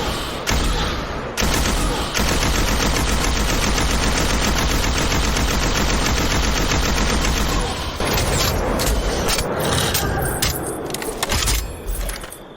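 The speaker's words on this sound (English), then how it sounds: "It's an arc heavy machine gun" Rapid bursts of heavy machine gun fire from a video game, with a metallic, tinny mechanical character, roaring loud and continuous for several seconds before trailing into scattered shots and clanks.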